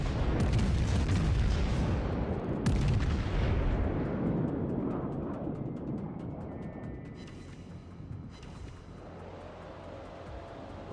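A salvo from a British Orion-class battleship's main guns in World of Warships booms loudly and repeatedly, with sharp blasts followed by a rumbling tail that fades over several seconds.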